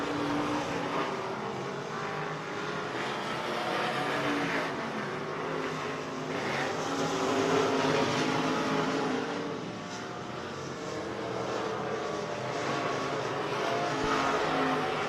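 Race cars circle an oval at RPM Speedway during a KR Cup feature, their engines droning steadily from a distance with swelling and fading passes, no voices over the roar.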